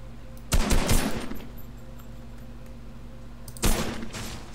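Assault rifle gunfire in the video game Fortnite, with two short, loud bursts of rapid automatic fire separated by about three seconds of steady background hum.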